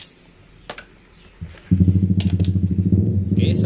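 A used motorcycle sits quiet after a few clicks and a brief crank, then its engine catches and settles into a loud, close, evenly pulsing idle.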